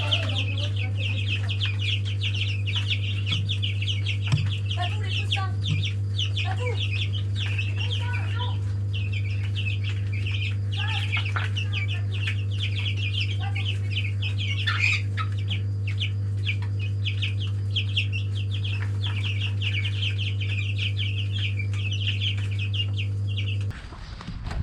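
Chickens and chicks in a garden: repeated soft clucking and high peeping chirps run throughout over a steady low hum, fairly close and moderate in level.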